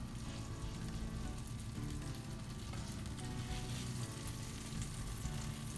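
Cardamom French toast fries in a very hot pan, giving off a loud, steady, close sizzle that crackles without pause and without any voices.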